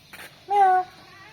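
A single short, high meow rises close up after a faint brief sound, then quiet.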